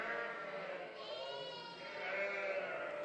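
Ansotana sheep bleat at close range with a few drawn-out, wavering calls in a farm setting, faintly mixed with background noise.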